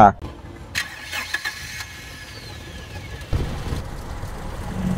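A 1996 Toyota Kijang Super G engine cranks and catches, then settles into a steady idle with a low hum and a whining tone over it.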